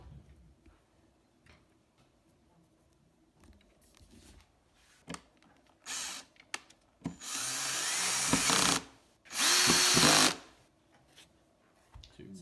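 A cordless drill set to low torque drives screws to mount kitchen cabinet hinges, with two sustained whirring bursts of about one to two seconds each after faint handling clicks and taps. Speech is heard quietly in the background.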